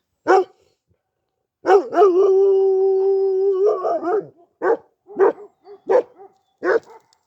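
Kangal dogs barking close by, a few sharp barks and then a long drawn-out howl, followed by a run of separate barks.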